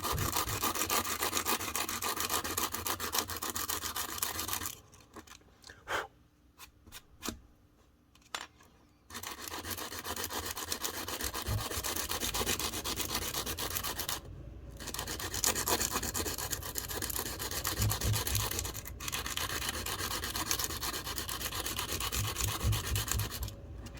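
Sandpaper rubbing back and forth on a pocket knife's pocket clip makes a steady, close, raspy scraping that stops briefly and then carries on for a long stretch, with no voices.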